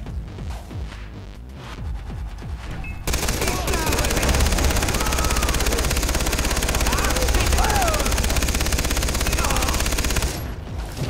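Dense, continuous gunfire from a firefight in the video game Far Cry 3 starts abruptly after about three seconds and holds steady and loud, with in-game voices speaking over the shooting.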